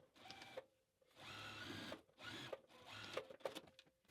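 A sewing machine runs in several bursts of steady mechanical whirring, stopping and starting with short pauses between stitching runs, close and fairly loud.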